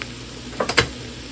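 Sesame seeds toast in a hot pan with a faint, steady sizzle. A few quick scraping stir strokes sound close by near the end.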